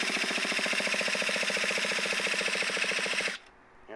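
A nitro RC car engine is cranked by an electric starter, giving a fast, even, rhythmic whirring buzz that runs loud and close for about three seconds before cutting off abruptly.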